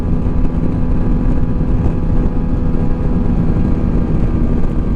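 A QJ Motor SRT125 DX 125cc trail motorcycle rides along and brakes hard on its front brake, its small single-cylinder engine droning steadily and loudly near the microphone under rushing wind noise.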